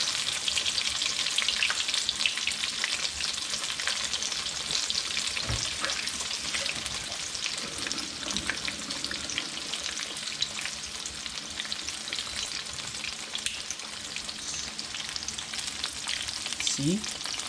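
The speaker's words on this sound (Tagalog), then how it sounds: "So madali lang yung itong iprito." Food frying in a pan for a Kapampangan dish, with a continuous dense sizzle and occasional stirring scrapes, close and steady throughout with no talking.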